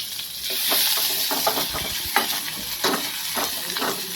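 Fennel seeds, curry leaves and shallots fry in hot oil for a Kadappa dish, a bright continuous sizzle broken by repeated scraping stirs with a spoon, close up and with no voices.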